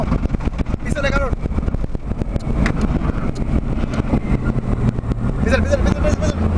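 Jeep engine revs and pulls hard on a run through the Altar desert, a loud rough drone with wind buffeting the microphone while people shout over it.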